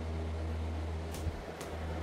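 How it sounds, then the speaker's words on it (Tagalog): An electric fan runs on a veranda, a steady low mechanical hum with a constant airy whir and faint clicks. "nagamit tayo ng electric fan para pupunta dito sa veranda"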